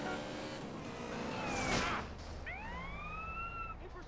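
A police siren in the video game GTA San Andreas sweeps up in rising wails over a dull, noisy background, sounding moderately distant.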